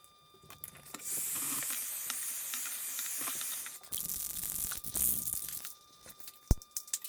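Aerosol spray paint, a flat black vinyl and fabric specialty coating, hisses out in several bursts of a few seconds each, close and fairly quiet, with small clicks and handling noises between sprays.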